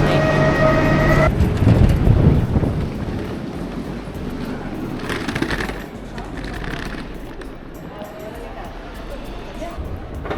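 An airport rail shuttle carries passengers from Malaga airport to the city centre, a steady rolling rumble inside the carriage with a brief tonal hum at the start and a few faint clatters.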